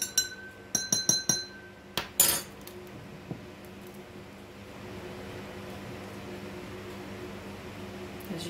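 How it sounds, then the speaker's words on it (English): A spoon stirs red coloring drops in a glass container, giving a quick run of bright clinks and taps up close, then a low steady hum carries on underneath. "I'm going to stir that up."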